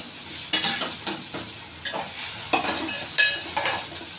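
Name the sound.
potatoes and onion sautéing with ginger garlic paste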